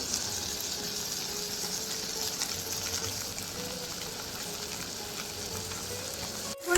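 Spices frying in a hot pan, a continuous bright sizzle at steady moderate level, close by, with a sharp clatter and rise right at the end; no talking.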